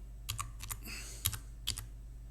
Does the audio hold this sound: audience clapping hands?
no